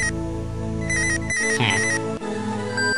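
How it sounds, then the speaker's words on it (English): A cheerful electronic cell phone ringtone from the video game Mother 3 plays loudly and alone, a repeating tonal jingle with layered harmonic notes and a brief shift in the middle. "Love the ringtone."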